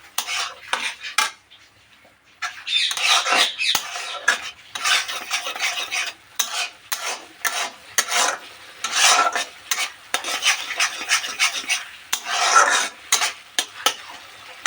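A utensil beats eggs with salt in a bowl, giving rapid, close clinking and scraping strokes in energetic bursts, one brief pause, then continuous whisking.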